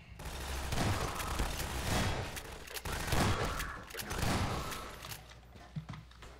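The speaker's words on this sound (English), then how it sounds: "wasting all of my ammo just opening up crates" Dense bursts of gunfire from Half-Life 2 batter supply crates in the Nova Prospekt level, rapid shots and crunching impacts packed together almost continuously, loud and close, with game effects layered in.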